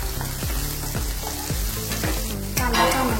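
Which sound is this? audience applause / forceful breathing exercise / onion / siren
onion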